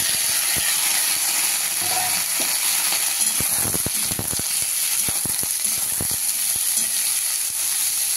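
Cut papaya pieces go into hot oil with mustard seeds, setting off a steady, loud sizzle broken by scattered crackles, pops and clicks.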